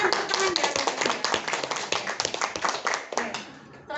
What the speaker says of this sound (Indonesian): Silakan tepuk tangan ya.